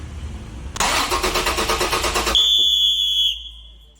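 A car engine cranks with a rapid, rhythmic starter whir for about one and a half seconds, then catches and settles as a high tone rings on briefly and fades. The clip is from a Toyota ad.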